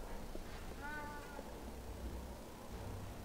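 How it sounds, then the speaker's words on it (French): A white cat meows once, a short rising-falling cry over a dense, low ambient drone in the video game Alice: Madness Returns. "c'est un chat blanc"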